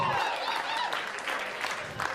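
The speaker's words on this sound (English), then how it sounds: "Man, round of applause" Brief burst of audience clapping and cheering at a live stand-up comedy show at Gotham Comedy, fairly faint and short, with crowd noise mixed in.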